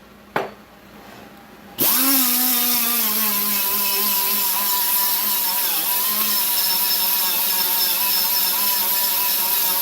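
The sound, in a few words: blower running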